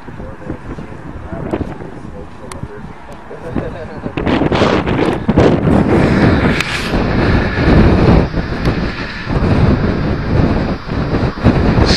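Loud, steady wind buffeting the microphone at a go-kart outing, a rough low roar that swells after a few seconds and persists, with occasional thumps.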